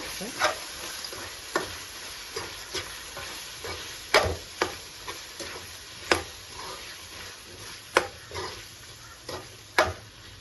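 A spoon stirs tomato pieces into a mutton and drumstick curry in a pan, giving a soft simmering sizzle punctuated by repeated sharp scraping clinks against the pan at irregular intervals, close up with no talk.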